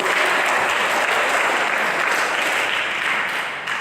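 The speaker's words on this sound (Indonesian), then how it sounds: "Tepuk tangan Bapak Ibu." A church congregation applauds together, a thick, sustained wash of clapping, loud and close, holding steady before tapering slightly at the end.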